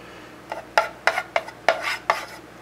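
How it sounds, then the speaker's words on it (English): A spoon scrapes and dabs paint across a guitar body for swirl painting, making about six short, close, wet scraping strokes in an uneven rhythm against a quiet background. "take the spoon or fork or whatever and just kind of coat everything here"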